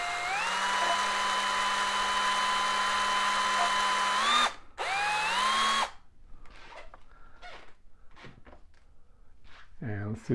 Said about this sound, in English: And then I'm just gonna drill a pilot hole right here.